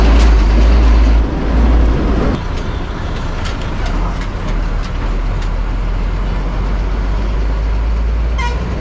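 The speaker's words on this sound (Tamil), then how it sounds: "இப்போ பஸ் வந்து கீழம்பாக்கம் பேருந்து நிலையத்துலேருந்து தாம்பரத்துக்கு கிளம்பியாச்சு இது வந்து சாதாரண கட்டின பேருந்து தான்" An ordinary government bus pulls out of Kilambakkam bus stand, Chennai, bound for Tambaram: loud, close engine rumble that eases after the first two seconds, with short horn toots scattered through the busy station noise.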